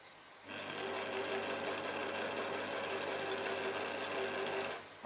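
An electric sewing machine hemming curtains for a Toyota Coaster runs in one steady burst of about four seconds, a close, even mechanical whirr with a fast rhythmic stitching pulse, starting and stopping cleanly with no talk.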